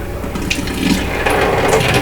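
Water pours into a bottle, a short, close, rushing fill that grows slightly louder and brighter as the bottle fills, with no voices.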